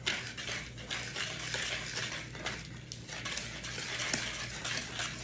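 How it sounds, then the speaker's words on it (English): Dry ingredients (flour, sugar, baking powder, salt and spices) whisked together in a bowl for a homemade pear cobbler, a steady close scraping and rustling of a whisk running continuously with no voices. "I'm gonna whisk this all together so they can be all the way incorporated."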